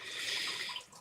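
Water from a pet tank's water pump pours and trickles in a steady, gentle flow, close by and fairly quiet, with no voices.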